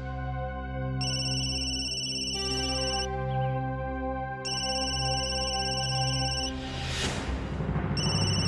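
A mobile phone ringtone playing a looping melodic tune of clear, sustained tones, loud and close, running continuously with a brief shift in pattern partway through and no speech.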